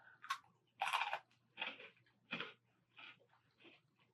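Crunchy Turkish snacks are chewed up close in a run of sharp, quiet bites and crunches, about seven evenly spaced, with no talk between them.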